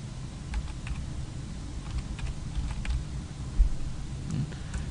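Typing on a computer keyboard while filling in a web form: steady, fairly quiet key taps with a few sharper clicks over a low background hum.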